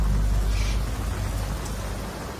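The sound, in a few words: heavy rain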